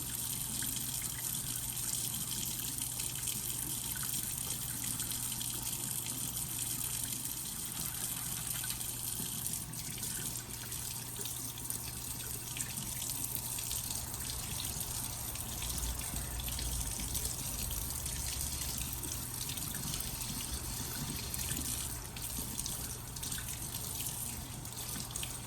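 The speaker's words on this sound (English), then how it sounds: "a very good thorough rinsing in some clear water" A ring rinsed under clear running water after a scrub with a Scotch-Brite pad and Dawn dish soap, as a steady tap stream gushes into a sink for the whole stretch with no talking.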